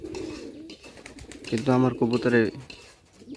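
Domestic pigeons coo in a rainy-season loft, a few soft rolling calls rising in the middle while someone talks over them.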